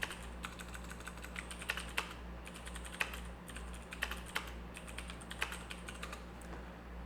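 Typing on a computer keyboard, a quick, uneven patter of close key clicks with a few sharper taps, steady over a low background hum.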